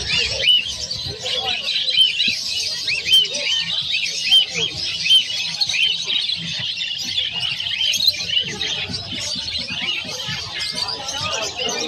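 Euro budgies at the Malabon pet market chirp and chatter nonstop, many birds overlapping in a dense, bright, close twitter, with faint human voices in the background.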